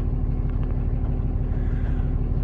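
A 2006 Dodge Ram 2500 SLT 4x4 with a 5.9 Cummins diesel idles on a mild cold start, a loud, steady, low rumbling clatter close by, unbroken throughout with no talking.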